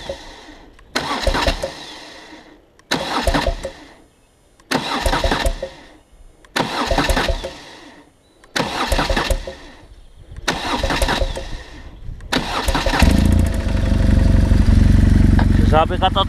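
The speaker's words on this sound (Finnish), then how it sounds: "Me käynnistään sen, mutta me en käynnistä suoraan." Engine cranked in seven or eight rhythmic, labouring starter bursts with short pauses between them, then catching and settling into a loud, steady close-up run.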